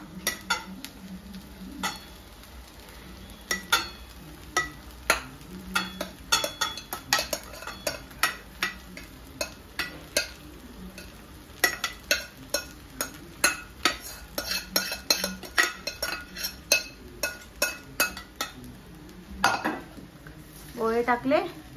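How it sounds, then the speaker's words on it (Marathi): Poha tossed and stirred in a kadhai held with tongs, with coriander added, giving a long run of sharp metallic scrapes and clinks in an uneven rhythm over a faint sizzle. Nobody speaks. "आणि मग चिमट्याने पकडा ती कढई आणि मिक्स करा."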